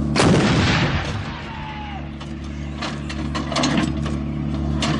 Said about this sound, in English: The gun will now fire 3 rounds in area diamond.